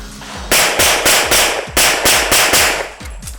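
Rapid pistol shots from a Sig P320 with grip tape during a timed production-class shooting match stage, about nine loud, sharp reports fired at a steady, even cadence, each with a short ringing tail.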